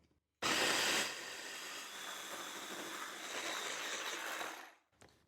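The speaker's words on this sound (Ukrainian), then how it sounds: "Накриваємо кришкою і подрібнюємо." A lidded electric chopper grinds pickled cucumbers into a bruschetta spread, making a steady loud whirring buzz for about four seconds that starts abruptly and then winds down.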